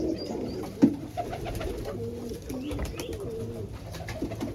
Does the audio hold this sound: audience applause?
no